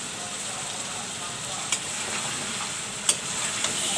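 Whole green chilies frying in hot ghee for chicken korma, a steady bright sizzle with a few crisp pops and spatters, and no talk.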